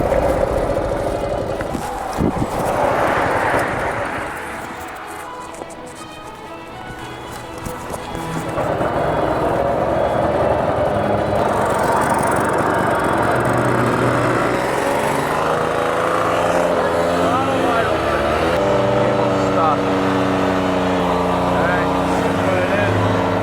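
An 80-year-old WW2 motorbike engine cranks and catches, then settles into a steady, close running rumble with uneven harmonic throbbing, while people talk nearby.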